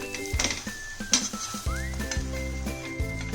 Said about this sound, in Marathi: आता हे दुसऱ्या साईडने पण असं भाजून घ्यायचं